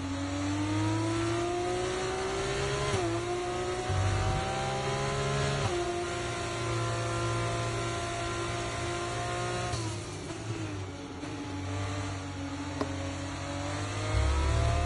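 An F1 race car engine in the video game F1 24 revs hard and steadily throughout, its pitch rising and dropping through gear shifts with a brief tire squeal, loud and continuous with no talking.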